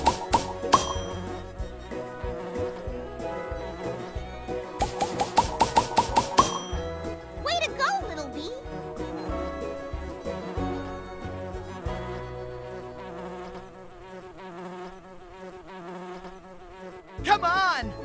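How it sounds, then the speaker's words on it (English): Buzzing bees collecting pollen on flowers, heard as a sustained insect drone mixed with bright musical chimes and tones, fairly loud and continuous across the stretch. "Bees collect and eat pollen, too."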